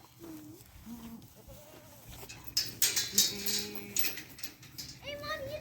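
Goats on a farm, including a young kid, bleat in a string of short, wavering calls, some near and loud, others softer, with brief talk and farm background in between.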